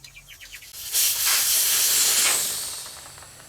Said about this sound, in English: let's let the air out of the tyre. I'm going to remove this valve.